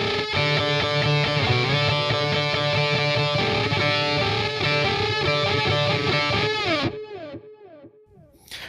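Opening four-measure phrase of a song's guitar solo, a loud distorted electric lead with effects over a driving band, running about seven seconds before cutting off into a brief ragged tail and near silence.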